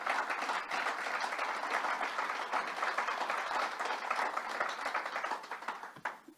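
Sustained audience applause at an event honoring survivors of child sexual abuse with the New York governor, dense steady clapping from a room full of people that holds for several seconds before tapering off at the end.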